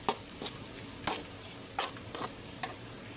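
Hot rice and avakaya mango chutney mixed in a pan, with a soft scatter of spoon stirs and scrapes against a faint sizzle, quiet and close, no talk.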